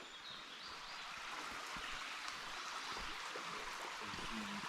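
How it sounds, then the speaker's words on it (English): Creek water at a shallow trail crossing on the Appalachian Trail, about five miles in, flowing with a steady broad hiss and trickle, close and continuous, with faint bird calls above it. "Lick Creek is 5 miles in, and the first reported legit water crossing I've encountered"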